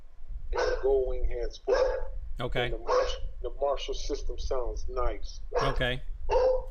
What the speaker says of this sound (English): want to apologize for the dog barking in the back